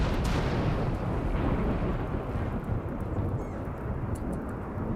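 Thunder from lightning in the RimWorld video game: a heavy, loud rumble that starts with a crack and rolls on with rain-like hiss, no talking.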